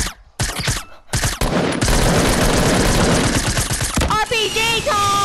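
Rapid SMG gunfire in Fortnite, loud sustained bursts of fast automatic shots with short gaps between, followed by a player talking excitedly over the game audio.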